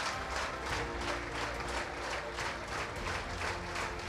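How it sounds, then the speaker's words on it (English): A grandstand crowd at a school rugby match between Trinity College and S. Thomas' College claps steadily, a dense continuous round of applause with no voices breaking through. "this grandstand gives a rapturous round of applause"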